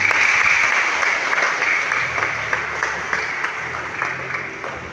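Sustained loud applause fills a wedding mass in church, a dense wash of clapping that holds steady then eases slightly, with faint voices underneath.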